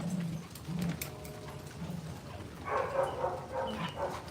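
Dogs at a kennel give brief low barks and whines, mid-distance, with cooing birds nearby and quieter stretches between the sounds.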